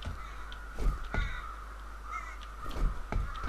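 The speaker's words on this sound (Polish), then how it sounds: "dlaczego tutaj tak dużo jest ptaków" Crows caw repeatedly in the F.E.A.R. Extraction Point video game, several harsh calls spaced irregularly over a steady low game ambience, fairly close and clear with no talking.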